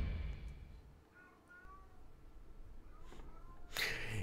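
A pet cat named Zidane meows a few times, short faint tonal cries in a quiet room, followed by a louder bump near the end.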